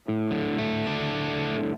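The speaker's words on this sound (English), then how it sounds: "you can actually control the amount of distortion that it actually has" An electric guitar played through BIAS FX amp modeling with distortion set to vintage mode rings out as loud, sustained overdriven chords, struck a couple of times in quick succession and held until they cut off, close and alone.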